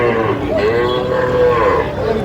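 A Sahiwal bull calf moos at a cattle market, a loud, close, drawn-out lowing call that rises and falls and holds across the whole stretch, with market noise underneath and no talk.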